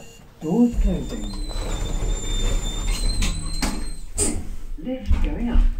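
Lift doors sliding shut on a Pickerings lift at a hotel, a brief mechanical rumble and clatter from the door operator with a low motor hum beneath, heard close and fairly loud.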